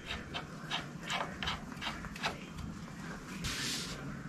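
A socket ratchet turns a screw during rear brake lever work on a Ducati SuperSport 939, giving a run of quiet, evenly spaced clicks close up, followed by a brief hiss-like rasp near the end.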